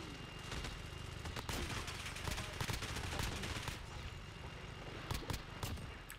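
Rapid gunfire in the video game Call of Duty Modern Warfare, dense bursts of shots and automatic fire crackling continuously and loudly, with sharper single reports near the end.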